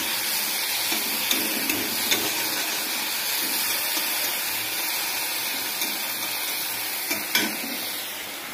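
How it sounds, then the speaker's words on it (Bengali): Shrimp fry in hot oil with a steady, close crackling sizzle, joined by occasional soft clicks and stirring taps. "এই দেখো চিংড়ি মাছ ভাজতেছি আমি"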